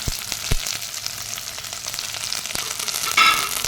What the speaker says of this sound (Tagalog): O, ilagay ko na yung malunggay. Igisa ko muna siya